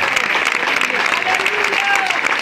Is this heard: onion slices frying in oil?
no